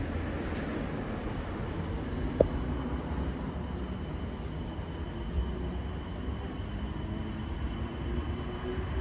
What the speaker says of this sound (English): Oh, I can hear a train.